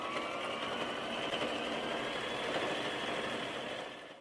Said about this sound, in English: then you can go ahead and stitch the rugs together following the lines